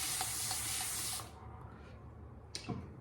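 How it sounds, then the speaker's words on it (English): A fine mist hisses from a spray bottle in one steady burst, then a short second spritz after a pause. "My trusty bougie water spray bottle."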